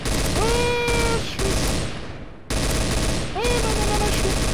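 Gunfire bursts in a Trouble in Terrorist Town match, loud and close, running through two stretches of the clip with a gap between them, with game tones and musical whistles layered over the shooting.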